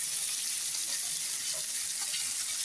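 Fish sizzling steadily as it fries in a pan, a continuous close hiss of hot oil with no breaks and no voices.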